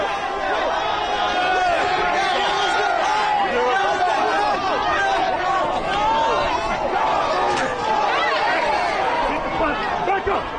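Dense crowd noise at a street meetup and giveaway, a constant roar of shouting and chatter with no gaps, loud and close throughout.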